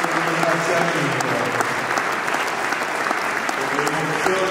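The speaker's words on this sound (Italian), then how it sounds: "Il nostro applauso, il nostro ringraziamento" An audience at the Christmas concert of the University of Perugia choir applauds steadily, a dense, even wash of clapping throughout.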